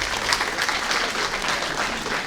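An audience at an official launch ceremony for an entrance exam applauds, a thick, steady wash of clapping that lasts throughout without talk.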